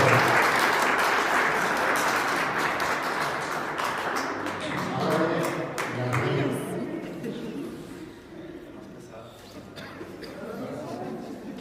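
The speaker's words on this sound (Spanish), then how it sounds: "Aplauso para David." Applause for David after his baptism at a church service, a broad steady wash of clapping that is loud at first and gradually thins out, with some voices mixed in.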